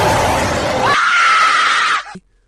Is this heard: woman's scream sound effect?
yes